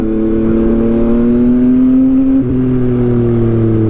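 A Yamaha MT-15 motorcycle engine hums steadily and loudly at cruising speed on Davao City's Diversion Road, with a short gear-change dip partway through.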